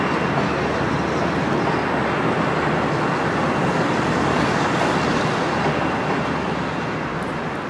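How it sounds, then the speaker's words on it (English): A broad, constant rumbling roar of a freight train passing on an elevated line, steady and fairly loud throughout with no speech. "There's nothing like seeing a Jeep run long hood forward, even if it is hauling only 18 cars"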